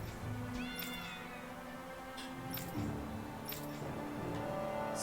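A cat meows several times in the video game Tales of Arise, short clear calls over a steady background of game music and ambience.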